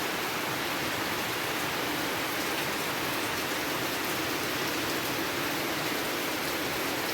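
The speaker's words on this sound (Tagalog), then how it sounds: "Lakas ng ulan." Heavy rain pours down in a steady, dense hiss without a break, loud and close, with no talk.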